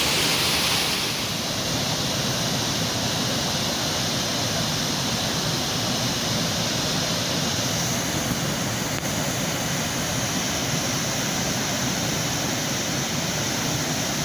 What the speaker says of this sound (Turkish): Arkamda Canikdere Şelalesi.